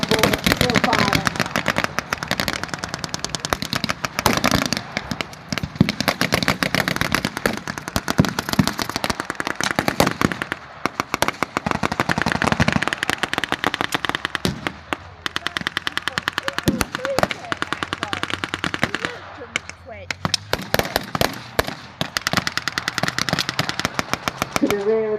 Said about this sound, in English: the troops on board are still firing